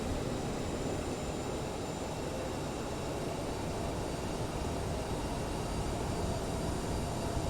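Aerosoft CRJ regional jet rolling for takeoff in a flight simulator game, a steady, loud broadband engine roar that holds evenly throughout with no voices.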